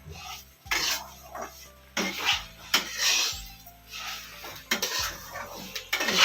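Semolina upma stirred in a pan, with rough scraping and rasping of a spoon across the pan in uneven bursts, close and moderately loud, along with occasional clinks.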